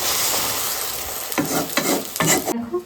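An egg fries on a tawa for a street-style chicken egg roll, giving a loud, steady sizzle broken by a few scraping stirs of a spatula before the sound cuts off.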